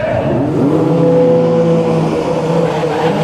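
Drag racing cars launch hard off the start line at a DCT World Cup event, a loud sustained engine roar with rising revs, close and continuous throughout.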